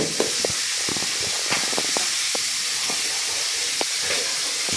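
Food sizzles steadily in a hot pan, with tomato added to the frying mix; a dense, continuous hiss is broken by scattered pops and crackles and stays close and fairly loud throughout, with no talking.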